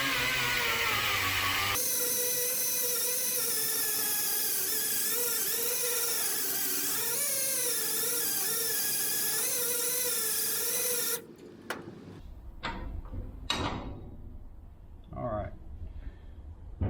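A handheld grinder shrieks loudly and steadily for about eleven seconds, grinding down a hump on a cast axle hub above the lower ball joint, then cuts off, leaving scattered clanks and taps.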